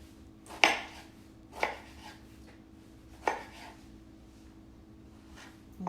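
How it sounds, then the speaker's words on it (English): Knife chopping long strips of avocado or vegetables for guacamole on a board, three or four distinct sharp chops spaced about a second apart, close and clear over a faint steady background hum. "And then I'm going to chop those long strips."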